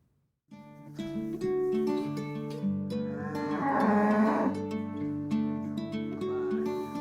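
Cattle moo repeatedly on a farm, the long low calls overlapping and swelling into a loud chorus near the middle, with no talk.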